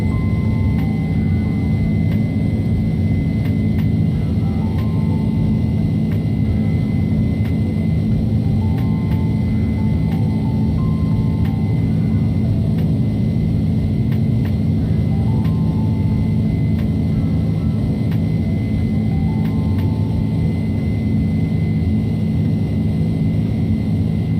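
An Airbus Beluga jet climbing after takeoff, heard as a constant loud engine roar and low rumble with steady faint tonal hums, unbroken for the whole span.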